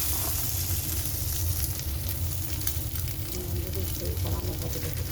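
Bread roasting in a pan, a steady, soft sizzle and crackle of frying that holds evenly throughout, fairly quiet and close, with occasional faint stirring.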